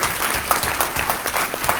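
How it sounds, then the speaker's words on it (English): Lively applause breaks out from the audience at a Republican women's club gubernatorial forum, loud and close, with individual claps audible in an uneven, crackling rhythm throughout. "Let's give them a round of applause, please."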